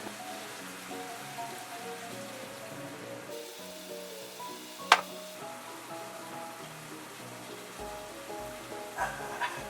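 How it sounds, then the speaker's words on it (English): Water poured into a hot pan of nikujaga spits and sizzles in an uneven patter, with one sharp splash partway through and clatters near the end, over a faint tonal background. "Yeah, I'm gonna put some water in."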